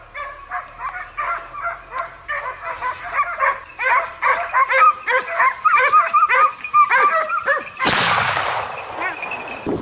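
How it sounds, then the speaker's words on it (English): Hunting dogs driving a wild boar bark in a rapid, overlapping chorus of yelps and yips, loud and close and sustained, ending in a sharp, loud burst of noise. "The hunting dogs take on the role of driving the boar toward the zone where the hunters lie in wait"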